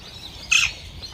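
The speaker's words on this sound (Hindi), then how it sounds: "ये तोते पास में आ जाएंगे अभी" Parrots in an aviary at the Gulab Bagh bird park in Udaipur let out a brief shrill squawk, close by and loud against a faint ambient hum.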